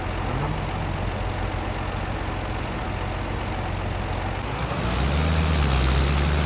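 An articulated tractor in Farming Simulator 22 reverses with a steady, droning diesel engine, a continuous low rumble that swells louder and deeper near the end as the revs rise, with no voices.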